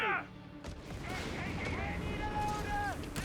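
A tank hits a mine in Company of Heroes 3 with a sharp blast at the start, followed by a rumbling battlefield din, whining tones and distant gunfire, with faint voices underneath.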